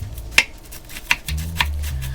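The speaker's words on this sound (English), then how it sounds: "So I'm just gonna chop my kale in very thin slices, like so." A knife cuts kale into very thin slices on a board, giving three crisp, separate chops spaced out over a couple of seconds, close and fairly quiet.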